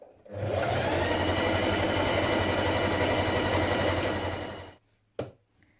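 A sewing machine runs steadily for about four seconds while stitching down a dress sleeve seam, holding an even, close mechanical whir, then stops, with one brief clack just after.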